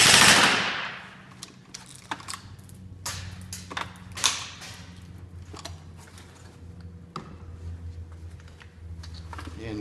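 A KWA M16 airsoft rifle fires fully automatic in several short rapid bursts of sharp clicking shots over a low steady hum, with a loud burst at the start.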